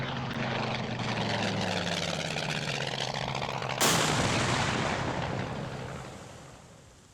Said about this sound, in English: Floundering helpless in the sky, it finally crashes on the shores of an uncharted island